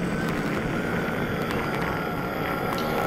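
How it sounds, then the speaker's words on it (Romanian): An angry Enderman in the Minecraft video game gives off a steady, dense, rushing drone that holds at an even loudness throughout, with no speech over it. "L-am enervat. E nervos pe mine. Scoate sunetul ăsta."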